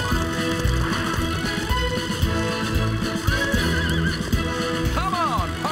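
Cartoon horses whinny and neigh in rising, wavering calls amid a busy mix of hooves and background voices, with a loud burst near the end.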